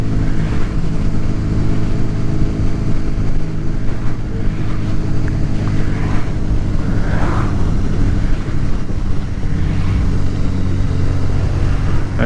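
Honda VFR1200F motorcycle engine cruising steadily around 3,000 RPM in traffic, a continuous loud drone with wind rush and slight rises and dips in revs, heard up close from the rider's position.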